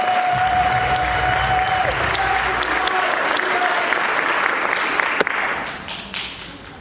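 A crowd at a Celtic summer concert applauds vocalist Brandy with sustained, full clapping and a faint held cheer. One sharp clap stands out near the end, then the applause thins and fades.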